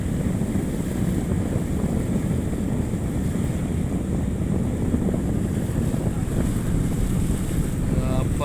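Boat crossing the Mekong River at Nakhon Phanom on the Thai side in the morning, a steady low engine rumble mixed with strong wind buffeting the microphone and water wash, continuous throughout.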